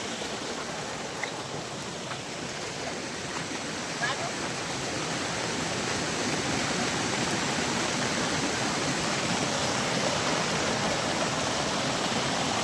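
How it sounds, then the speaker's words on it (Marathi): Heavy monsoon rain pours outdoors with rushing runoff water, a dense, loud, steady roar that grows slightly toward the end with no break. "जोरात पाऊस आहे हो, नाद नाही करायचा या पावसाचा"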